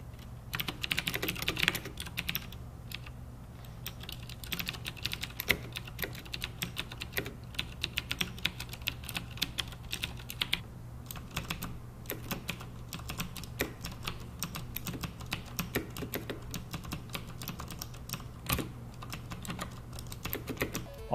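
Continuous fast typing on a CM Storm QuickFire XT mechanical keyboard with green switches, sharp crisp clicks in rapid irregular bursts, close up with no talking.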